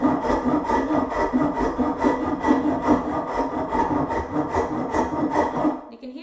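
Wood carving tool working through a knot in timber, a steady rough rasping, scraping stroke sound that is close and fairly loud, continuous for several seconds before stopping abruptly near the end.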